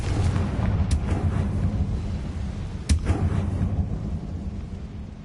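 Confringo spell blasts in Hogwarts Legacy, with two sharp explosive bursts near one second and three seconds over a dense, rumbling battle backdrop of steady low noise.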